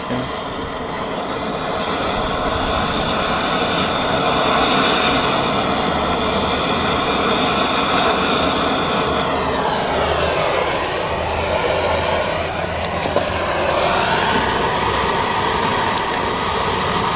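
A gas soldering torch burns with a loud, steady, close roar that holds for the whole stretch, with slight shifts in its hiss partway through.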